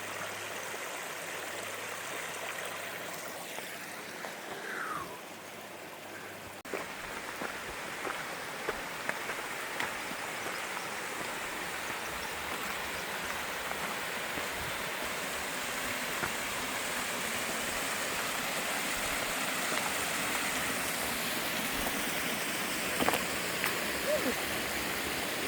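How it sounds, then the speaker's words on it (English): Small creek flowing beside a forest trail on Gales Creek in April, a steady close rushing and babbling of water that fills the whole stretch, with faint rustles and footsteps underneath and no talk. "There's a nice little creek."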